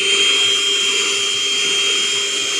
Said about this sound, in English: I usually take a vacuum and vacuum that up before I pull this out.